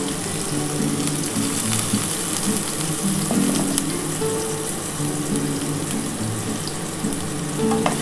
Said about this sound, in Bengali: আমি উচ্ছেগুলো ভেজে নিচ্ছি